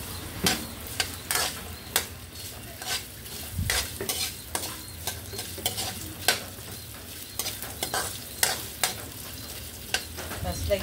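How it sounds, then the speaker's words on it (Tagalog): Ginger sautés in hot cooking oil with a continuous sizzle, while a utensil scrapes and stirs against the pan in repeated, fairly loud strokes. "Lagyan ko ng mantika. Then, gigisa ko ang luya."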